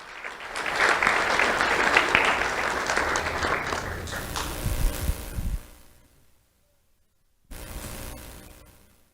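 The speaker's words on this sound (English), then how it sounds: "Let's have a round of applause for Sharice Benjamin" At a sheriff's office awards ceremony, an audience claps steadily for a recipient, the applause thinning out, then a brief silence before a burst of renewed clapping and room noise.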